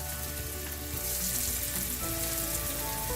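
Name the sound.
breaded salmon pieces frying in a pan with oil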